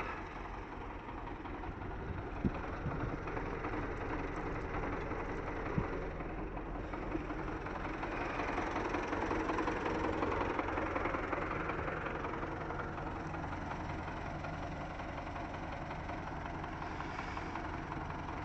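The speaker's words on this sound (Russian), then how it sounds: "Трактор 2010 года." A 2010 farm tractor's engine idling, a steady, even mechanical rumble that holds throughout with no talking and only a couple of faint knocks.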